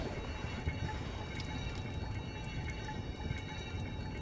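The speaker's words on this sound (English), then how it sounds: "we're going to hop in the mineral water so we can heal up" A video game character wades into healing mineral water, heard as a low, steady pouring wash with faint drips and tonal game ambience beneath, no speech present.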